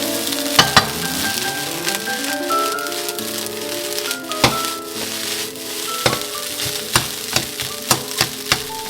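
Egg fried rice with lemon and white pepper sizzles in a hot pan while the moisture cooks off. Sharp spatula taps punctuate the hiss, and melodic background music plays throughout.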